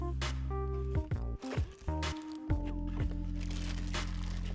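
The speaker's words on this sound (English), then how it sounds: "let's open up the box." A keyboard box and its plastic packaging are opened up close, with crinkling plastic, rubbing cardboard and a few sharp squeaks and scrapes, fairly quiet with no talk.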